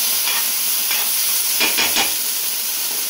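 Chicken being stirred with soy sauce in a frying pan for chicken lollipops, a steady hot sizzle with a few soft scraping stirs.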